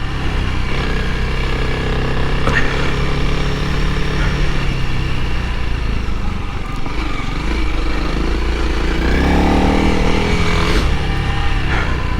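A Honda CRF300L dual-sport motorcycle riding off-road on worn tires, its single-cylinder engine droning loud and close throughout with rising and falling revs and wind rumble, no talking.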